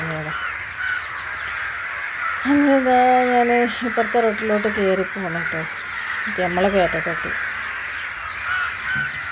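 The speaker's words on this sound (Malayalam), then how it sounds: "ഈ കാക്കകളുടെ സൗണ്ടൊക്കെ നല്ലോണമുണ്ട്" Crows caw repeatedly in the evening, in loud clustered bursts over steady road ambience while someone talks throughout.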